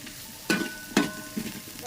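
Onions frying in a pan, a soft quiet sizzle broken by a few stirring scrapes at a steady pace, close by, with no voices.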